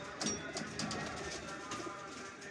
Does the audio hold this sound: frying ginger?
no